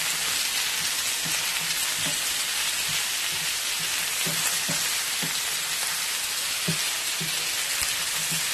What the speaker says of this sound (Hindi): दो 3 मिनट तक इसको आप फ्राई करें आलू को।